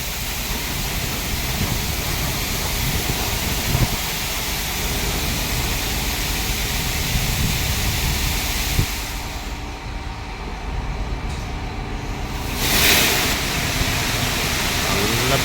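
A high-pressure water spray washes a car with a loud, continuous hissing rush that shifts briefly as the jet moves, under occasional voices.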